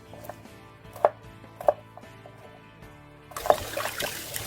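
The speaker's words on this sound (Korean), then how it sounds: "생강은 잘 우러나도록 두세 번 팬썰기를 해주고 마늘도 너무 얇지 않게 팬썰기를 해놓습니다." Knife slicing ginger and garlic on a cutting board, three distinct sharp taps spaced about half a second apart, followed by a scraping, rustling burst near the end, close and moderately quiet.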